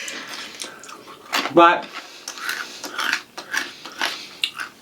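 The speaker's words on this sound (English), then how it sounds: "They're crunchy, that's for sure. They're definitely crunchy." Crunchy Nothing But Cheddar cheese snack being chewed, with a few loud crisp crunches near the start followed by softer, scattered chewing under people talking.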